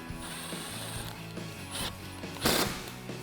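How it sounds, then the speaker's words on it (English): A ratchet with an 8mm socket tightens a hose clamp on a 2019-2020 RAM 1500 5.7L cold air intake tube, giving a run of quick, close clicking pawl strokes with a louder burst of clicks toward the end. "grab an 8mm socket or a flathead and tighten it down"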